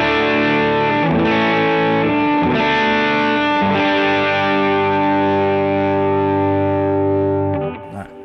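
Electric guitar run through a Benson preamp into a Lauren Audio Mustang GT overdrive pedal, loud distorted chords struck a few times and left to sustain, ringing out and fading at the end.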